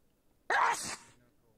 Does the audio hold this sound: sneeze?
yes